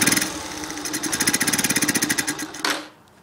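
A barn-find 1981 Honda C70 Passport's small motorcycle engine revs in a quick, steady pulsing burst, then sputters and dies out near the end, leaving near silence.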